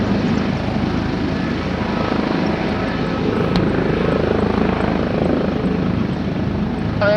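Helicopter engine and rotor running steadily, loud and close, with a constant dense turbine roar and rotor wash throughout, and no clear speech on top.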